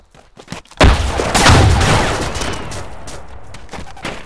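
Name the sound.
grenade explosion in video game ArmA 2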